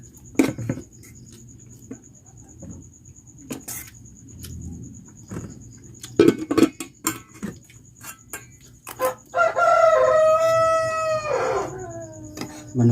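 A neighbour's rooster lets out one long, loud crow near the end, following scattered light clatters and taps in an otherwise quiet outdoor setting.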